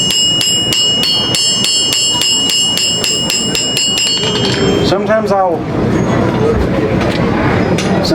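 Hammer blows ring on hot metal at a coal forge during a blacksmith festival, a fast even run of bright metallic strikes that stops partway, followed by crowd murmur and talk.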